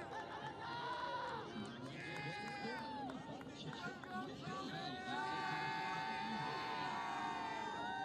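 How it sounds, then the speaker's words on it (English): An indoor crowd at a Saint Joseph's versus Drexel lacrosse game hoots and hollers after a goal, excited shouts and whistles rising over steady babble while a commentator talks. "you can hear the fans hooting and hollering"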